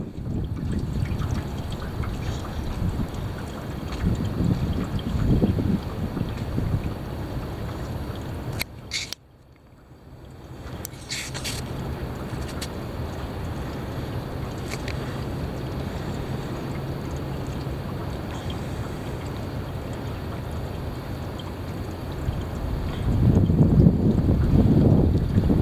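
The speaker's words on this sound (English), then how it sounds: "Here it is. The heavy wind." Heavy wind roars steadily into the microphone as a continuous rushing noise, with deep buffeting gusts near the start and end and a brief near-silent dropout partway through.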